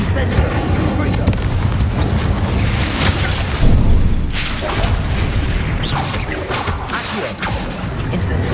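Spell explosions from a video game, booming blasts and crashes firing in quick succession, loud and continuous with a heavier burst in the middle, a voice shouting over the top.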